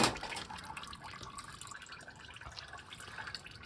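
Engine oil drains through a Fumoto valve on a first-generation Toyota Sequoia or Tundra, a soft steady trickle and patter of liquid heard close and faint, with no talk.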